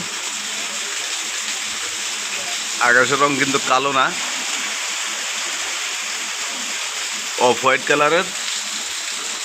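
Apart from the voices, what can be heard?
rain falling outdoors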